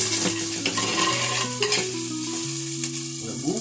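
Curry leaves are stirred into chicken curry in a frying pan with a continuous sizzle and scraping stir. Steady background music with sustained tones plays underneath.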